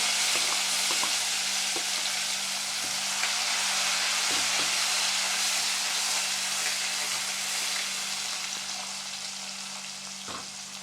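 Chopped tomato goes into a pan of ginger and green chili paste and sizzles steadily, a loud, dense frying hiss with occasional faint stirring taps that slowly eases toward the end.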